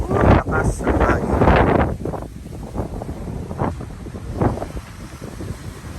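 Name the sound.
strong wind blowing over rice fields in Pagudpud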